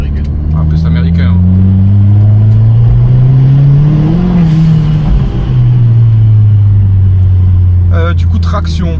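A Dodge Caliber SRT4, an American front-wheel-drive car, idling loudly close by as its engine revs up and settles in a rising and falling drone, with voices briefly heard at the start and end.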